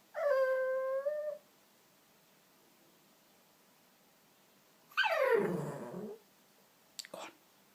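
A small jug dog lets out a brief tonal howl, then after a pause a louder, sliding, wavering howl that drops in pitch, and ends with a short faint yelp in a quiet room.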